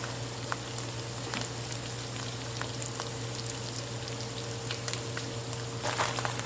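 Cooked rice frying in a pot with eggs gives a steady, even sizzle with scattered light pops and crackles throughout, close by and alone with no talking.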